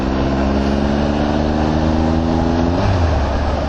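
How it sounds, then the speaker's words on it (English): A Triumph Tiger Explorer XRT 1200 motorcycle engine hums smoothly while riding, a loud steady drone with rising pitch that drops near the end as the rider shifts, plus wind rush. "I like how smooth the engine is."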